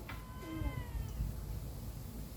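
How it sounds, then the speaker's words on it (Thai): A cat meows a couple of times early on, the calls faint and fairly close, then fading into low household background noise with no talking. "แมว"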